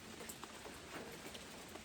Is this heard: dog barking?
no